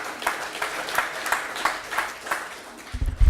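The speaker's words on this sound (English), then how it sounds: "So please give Steve a big round of applause for doing that." Audience at a Newport Beach community breakfast event applauding a speaker, a dense, steady wash of many hands clapping close by, ending with a few bumps and thuds.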